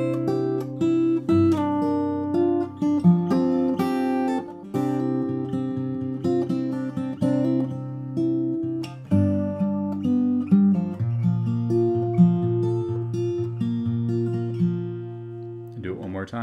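A fingerpicked acoustic guitar plays a continuous melodic passage of overlapping notes and chords, steady and clear with no voices. It is the intro to a song.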